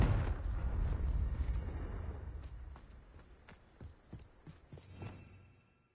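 A Confringo blasting spell explodes in Hogwarts Legacy with a loud, booming blast that rumbles and decays over several seconds, followed by scattered sharp debris cracks and thuds fading out.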